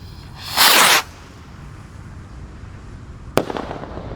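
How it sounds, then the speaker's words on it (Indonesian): A red Gold Dragon Rocket firework ignites with a loud half-second whooshing burst as it launches, then after a quiet pause a sharp crack pops high overhead, followed by a fading crackle. "di sini ada roket yang paling jumbo, Gold Dragon Rocket guys, yang warna merah ya"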